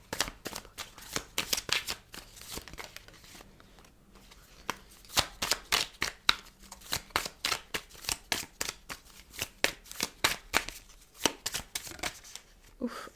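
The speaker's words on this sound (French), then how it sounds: "il y a trop de cartes qui sont tombées" Tarot cards are shuffled by hand in a long run of quick crisp riffling snaps and slaps, some cards falling loose, close and fairly quiet with brief pauses between bursts.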